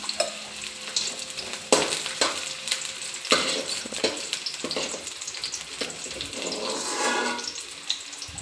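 Chopped onion frying in hot oil, a continuous close sizzle broken by sharp stirring scrapes and clatters, with a brief watery rush partway through and no talk.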